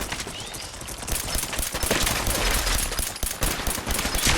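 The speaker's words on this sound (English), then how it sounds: "Opening fire." Rapid, dense automatic gunfire from the video game Fallout 4 rattles without a break, loud and close, with overlapping bursts throughout.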